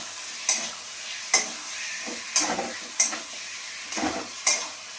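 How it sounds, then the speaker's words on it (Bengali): Chicken pieces fry in hot oil in a pan for a bottle gourd and potato chicken curry, with a steady sizzle broken by several stirring scrapes and utensil knocks at irregular intervals. "এবারে আমি এর মধ্যে কি করব, চিকেন দিয়ে দেবো। চিকেনটা দিয়ে ভালো করে কষে নেব।"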